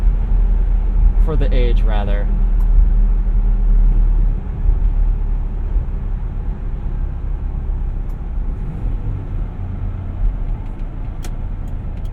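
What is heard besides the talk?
1987 Toyota Xtracab 4x4 truck driving, wind noise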